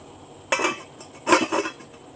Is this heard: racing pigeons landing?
no